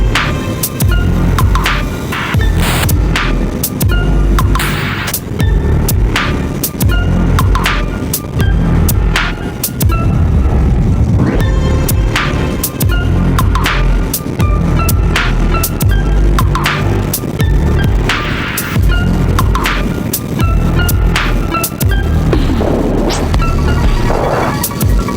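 A KTM 390 Duke single-cylinder motorcycle engine revs on a back road in Kentucky, its buzzing note climbing and dropping repeatedly with wind rush, close and loud for the whole stretch.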